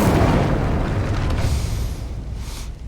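Incendio fire spell in Hogwarts Legacy, a single whooshing burst of flame that roars up at once and then fades over a few seconds.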